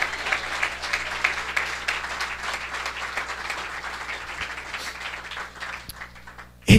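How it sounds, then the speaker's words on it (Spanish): A church congregation applauds in a Spanish-language worship service, lively clapping with some cheering that swells early, gradually thins out, and ends with a sharp close knock. "Denle ese aplauso al Señor, hermano."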